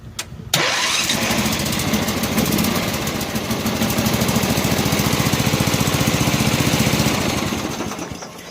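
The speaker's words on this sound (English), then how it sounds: "she starts to run good." A John Deere 111 lawn tractor engine cranks and catches, then runs loud and close with a steady throbbing idle that rises slightly before easing off at the end.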